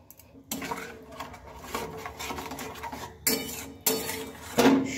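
Ingredients and water, including tomato paste, are stirred together in a bowl, with repeated metallic clinks and scraping of a spoon against the dish, close and fairly loud, with no speech.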